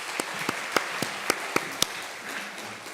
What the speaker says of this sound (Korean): 우리 박수로 축복합시다.